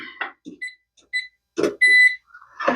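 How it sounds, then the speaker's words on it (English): A kitchen timer beeps as it is set, with several short, clear electronic tones and button chirps spaced apart, loud and close in a quiet kitchen. "Okay, and I'm going to set a timer."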